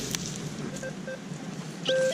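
A metal detector gives a few short, faint beeps, then a clearer steady tone at the end, over a modern 50-grosz coin, with low background noise in a large forest.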